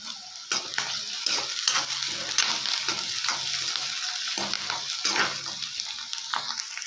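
Onions are stirred and fried in a pan for aloo peas curry, with a constant close sizzle broken by repeated scraping strokes of the spoon.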